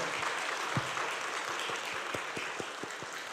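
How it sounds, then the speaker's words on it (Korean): A church congregation at a Wednesday evening worship service claps for the ordained deacons, soft and somewhat distant, a steady patter of many hands with a few sharper claps standing out. "우리 안수 집사회 집사님들 사랑과 격려의 박수 보내주시기 바랍니다"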